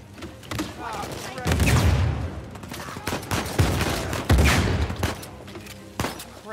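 Sniper fire in Uncharted 4 arrives as loud, heavy shots amid a surge of battle noise, with booming impacts and sharp cracks standing out against the dense background.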